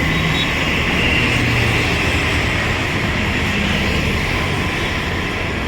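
A Chennai street where a metro train rolls overhead and cars pass below, a dense, constant roar of rumbling transit and traffic noise that fills the whole stretch.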